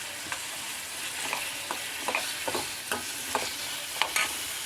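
Chopped ginger frying in hot oil alongside green chillies, a steady close hiss of sizzling broken by occasional light stirring clicks, with no one speaking.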